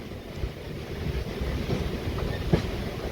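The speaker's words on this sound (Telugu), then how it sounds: "ఒక బ్యూటిఫుల్ కర్వ్ చూడండి మన ట్రైన్ది" A MEMU local train rolls around a curve, a steady rumbling clatter of wheels mixed with wind buffeting the microphone, fairly quiet and without voices.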